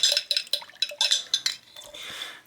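A Shimano RS-10 front hub cone is scrubbed in a dish of mineral spirits, giving quick metallic clinks and scrapes against the container in short bursts, ending in a brief swishing of liquid.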